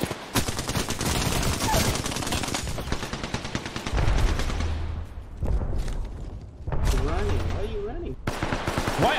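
Rapid hip-fired gun bursts crackle in a shooter video game, loud and nearly continuous with brief pauses, some booming low thuds mixed in, while players talk over it.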